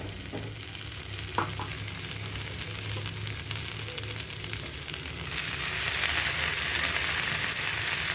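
Spinach sautéing in a pan with softened tomatoes gives a steady, close frying sizzle with a brief stir clatter early on; the hiss grows louder and brighter in the last few seconds as the greens hit the heat.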